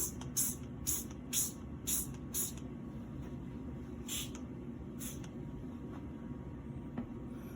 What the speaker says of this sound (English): Spraying it with normal Windex.